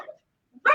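Senior rescue dog gives a short, sharp bark close by, preceded by a faint low vocal sound and near silence.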